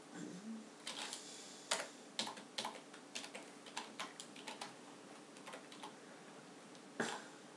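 Someone types a file name on a computer keyboard, producing quiet, irregular key clicks in short bursts over several seconds, close but soft, with no talking.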